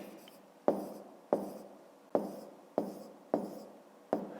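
Pen or marker writing numbers on a surface in a maths exercise, heard as six separate scratchy strokes, each a sharp onset trailing off, close and fairly loud with no talk.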